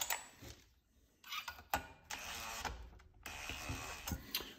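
Ratcheting and clicking while bolts are tightened on a chainsaw being rebuilt with a new piston after a scored cylinder, bursts of rapid mechanical clicks separated by short pauses, close up without talk.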